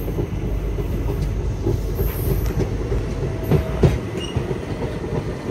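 The Hyderabad Deccan to Purna Express runs steadily near Kohir Deccan, with a continuous low rumble of wheels on rails, rhythmic clatter and faint metallic squeals, heard close from on board.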